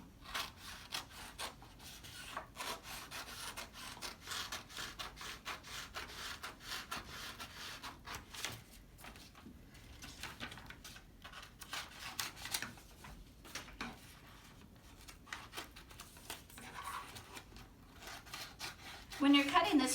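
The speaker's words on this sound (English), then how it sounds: "Every now and then you notice I might cut a little bit of the pattern." Scissors cutting through a paper gown pattern, soft scratchy snips and rustling paper repeating irregularly at close range, fairly quiet, with a louder crisp rustle at the end.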